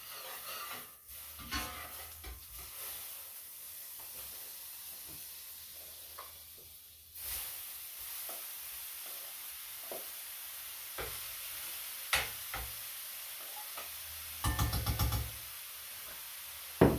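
Butter sizzles faintly in a hot pan before cauliflower is fried, a soft steady hiss broken by occasional knocks and clatters of a utensil against the pan.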